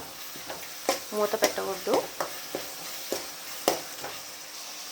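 Tomato and onion fry in a pan while a spatula stirs them, giving soft sizzling and a series of sharp scraping taps against the pan, up close, with someone briefly speaking.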